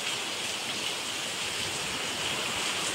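Heavy monsoon rain falls on Mumbai in a steady, dense hiss that holds without a break, close and even, with no voices.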